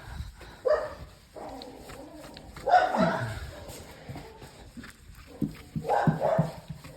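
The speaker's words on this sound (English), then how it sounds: "please don't bark right now." A dog barks outdoors in a few sharp bursts spaced across the stretch, moderately close, with quieter whimpering sounds and faint background noise between them.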